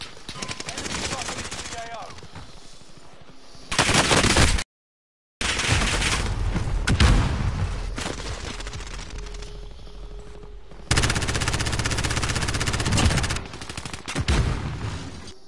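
Incoming gunfire in the video game Warzone crackles in repeated bursts of sharp, rapid shots, broken by a short silent gap, with louder volleys near the start and later on.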